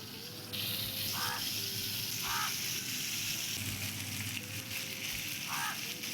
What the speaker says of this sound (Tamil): சாலோ ஃப்ரை தான் பண்ண போகிறோம்.